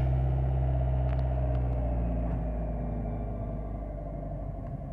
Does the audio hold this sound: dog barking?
no